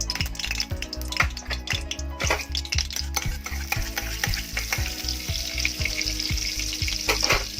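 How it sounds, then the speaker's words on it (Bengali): Butter and a little white oil sizzling in a pan at the start of making Mumbai-style pav bhaji at home, with steady frying hiss and regular scraping stirs of a spatula against the pan. "এবার আমি এর মধ্যে মাখন দিয়ে দিলাম"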